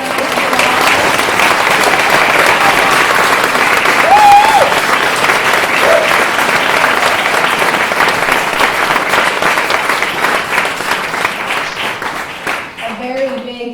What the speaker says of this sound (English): let's give all of our candidates a big round of applause